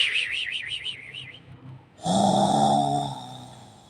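A cartoonish snore from a sleeping ice cream seller in a Barbie doll drama: a warbling whistle-like exhale, a short pause, then a loud rasping inhale, close and playful.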